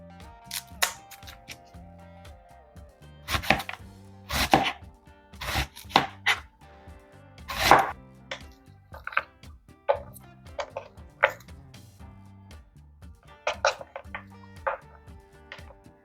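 An onion being chopped with a knife on a board, close up, with irregular sharp thuds that come in quick bursts and short pauses, no talking.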